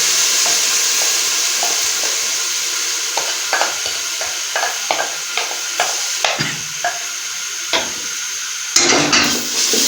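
Tomato paste made from a kilo of tomatoes is stirred into sizzling beef biryani masala in a large pot, with a constant loud sizzle and repeated scraping spatula strokes, ending in a burst of heavier clattering stirs.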